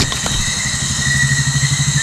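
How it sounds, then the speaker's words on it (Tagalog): A motorcycle engine runs nearby on a mountain slope, a steady pulsing mid-pitched drone that swells slightly as it climbs, heard alone over two seconds. "May motorsiklo pala dito na umakyat dito sa bundok na to."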